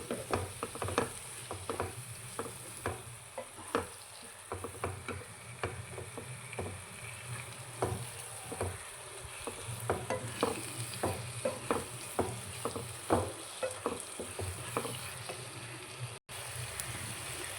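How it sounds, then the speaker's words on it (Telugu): Tomato paste being stirred into a frying masala for a drumstick curry, a steady low sizzle broken by rapid, regular scrapes and knocks of a spoon against the pan, close and continuous, with no talking. "అలాగే మనం టమాటా పేస్ట్ చేసుకున్నాం కదండి అది కూడా వేసుకుందాం వేసుకుని బాగా కలుపుకోవాలండి"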